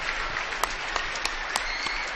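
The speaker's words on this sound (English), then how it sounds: "a well-deserved round of applause on a special evening" Applause for veterans at a girls' high school basketball game between Norwell and South Adams, a dense, steady clapping from a large crowd in a gym, carrying on evenly throughout with a few sharper claps standing out.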